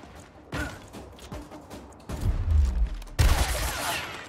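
Several loud bursts of video game gunfire with booming low impacts, coming in separate blasts spaced a second or so apart.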